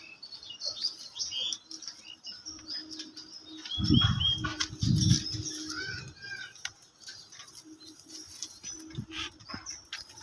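A pair of red desi pigeons flutter and shuffle nearby, with a burst of wing flaps in the middle and soft chirps and coos scattered throughout.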